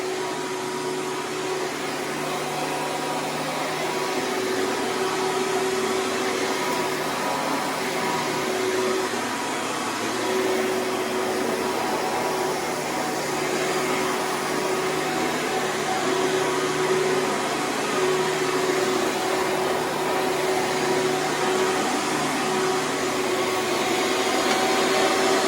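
Hoover Preferred upright vacuum running steadily for the whole stretch, a constant loud whirring drone with a steady motor whine and no talk.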